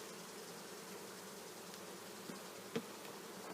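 Honey bees from an opened hive with a full, capped frame of honey pulled out, humming as a steady, soft drone throughout, with a couple of brief nearby knocks and no talking.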